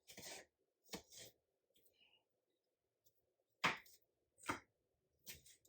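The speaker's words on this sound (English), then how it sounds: "I'm just rough chopping my onions" Quiet, scattered knife strokes rough chopping onions on a board, short scraping bursts in small groups with pauses between them.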